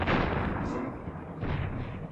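A booming explosion in the Crash Bandicoot video game, a heavy low rumble that bursts out loudly and then fades, with a second smaller blast following shortly after.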